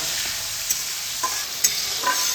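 Tomatoes simmer with half a spoon of salt in a pan for a vegetarian aloo dum curry. Close, steady sizzling is punctuated by a few soft stirring scrapes, with no talk.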